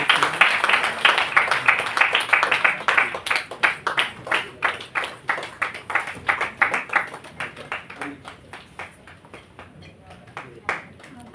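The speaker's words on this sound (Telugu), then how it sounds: "చప్పట్లు ప్లీజ్." Steady clapping from a congregation at a New Year worship service, many hands beating in a fairly even rhythm that slowly thins and fades toward the end.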